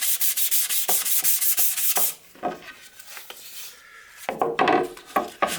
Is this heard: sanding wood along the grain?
yes